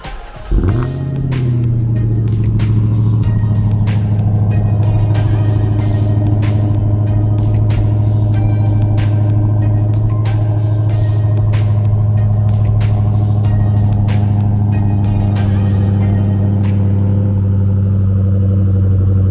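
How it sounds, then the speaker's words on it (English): A Dodge Hellcat V8 engine starts cold with a sharp crank and roar, then settles into a loud, steady, deep high idle with a rumbling exhaust, running alone without talk. "I'm gonna give y'all a cold start, let y'all hear how it sounds"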